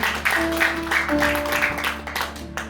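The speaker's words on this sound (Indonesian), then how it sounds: "Berikan tepuk tangan lebih baik lagi untuk memuliakan Tuhan" Congregation clapping during a church worship service in Batam, a dense, steady patter of hands filling the room with a sustained tone held underneath.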